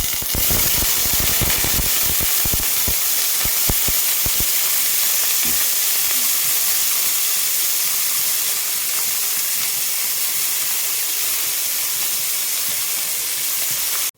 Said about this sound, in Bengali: দেখো এখানে আমি গাজর আর ব্রকলিটা প্রথমে একটুখানি ভেজে নিয়েছি